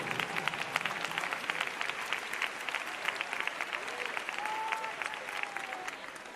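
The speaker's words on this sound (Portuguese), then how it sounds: "Podem glorificar ao Senhor com uma salva de palmas bem forte, bem alegre" A church gathering at a wake gives loud, joyful applause in praise, a sustained patter of many hands with faint crowd murmur and a few voices underneath.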